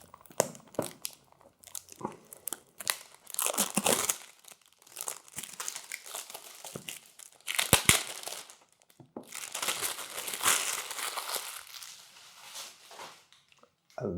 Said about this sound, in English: let's just cut off the plastic here